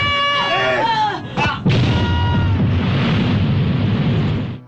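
A shouted voice cuts into a loud burst, followed by a long rumbling roar of an explosion that slowly fades.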